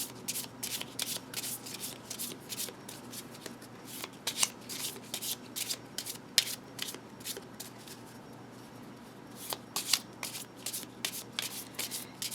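A deck of oracle cards is shuffled by hand in repeated crisp riffling bursts with brief pauses between them, close and clear with no voices.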